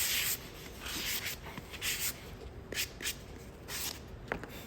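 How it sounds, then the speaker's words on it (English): Sandpaper rubs across the front of a wooden block during a decoupage craft, giving a series of soft, uneven scraping strokes close by at a low level. "Sand my front of my block a little bit"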